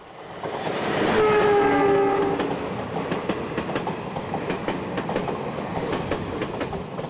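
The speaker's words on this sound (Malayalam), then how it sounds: "Thrissur railway station." A train at Thrissur railway station sounds a loud horn with stacked tonal blasts early on, then rolls on with steady rumble and rhythmic wheel clatter under station ambience.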